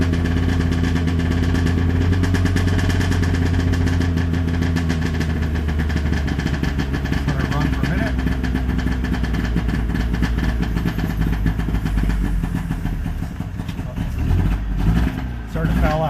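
A motorcycle engine idles steadily and close, with a deep continuous rumble that roughens near the end as the throttle is blipped, while someone talks over it.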